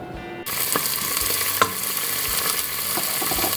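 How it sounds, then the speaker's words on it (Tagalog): Cooking oil heats and sizzles in a pot over medium heat, a loud, continuous frying hiss that starts abruptly and stays steady with small pops. "now let's begin by putting cooking oil in a pot over medium heat"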